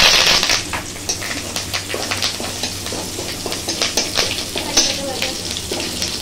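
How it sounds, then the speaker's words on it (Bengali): Curry leaves dropped into hot oil while frying homemade chanachur snack crackle with a loud initial burst of sizzle that settles into steady popping and spattering, with stirring noises throughout. "কারি পাতা দেওয়ার সাথে সাথে যখন ঝাঁটা করে উঠলো কেন?"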